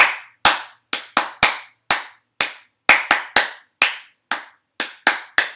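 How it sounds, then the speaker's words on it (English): Loud, sharp hand claps during a children's song at a library storytime, about sixteen separate claps in an irregular rhythm, some in quick pairs and triplets, with brief ringing decays and no talking. "That was lots of clapping."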